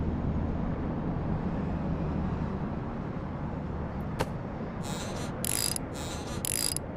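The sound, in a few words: wrench loosening aircraft wheel nut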